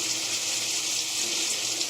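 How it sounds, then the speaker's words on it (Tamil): A little water splashed into mango pickle cooking in a pan, heard as a brief continuous hiss and trickle with steady broadband wash, close and without voices. "கொஞ்சமாக தண்ணி தெளிச்சுக்கலாம்."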